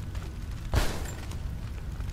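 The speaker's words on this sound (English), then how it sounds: "that explosion was kind of, OP" A single deep boom from an explosion in Rise of the Tomb Raider hits partway through, then rolls off into a short rumbling tail over steady low background noise.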